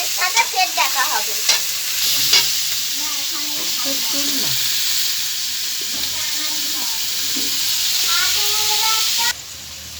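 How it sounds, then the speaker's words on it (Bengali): Vegetarian chow mein is stir-fried in a pan, a steady sizzle under repeated scraping and tossing strokes, loud and close, with a spatula clatter near the start and an abrupt cutoff at the end. "এবারে এটাকে ভালো করে ভেজে নিতে হবে।"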